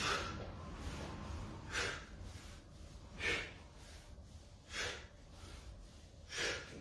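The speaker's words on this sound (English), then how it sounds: "So breathe out in the top position." Four forceful exhaled breaths during squats, evenly spaced about a second and a half apart, close and breathy against a quiet background.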